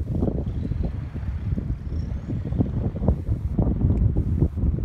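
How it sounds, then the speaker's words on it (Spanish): Winter sea breeze on the coast at Perth, Western Australia, buffeting the microphone as a steady low rumbling roar that swells in gusts, with no voices. "Podrán sentir o escuchar lo que es la brisa"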